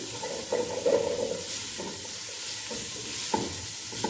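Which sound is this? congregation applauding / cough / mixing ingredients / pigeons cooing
mixing ingredients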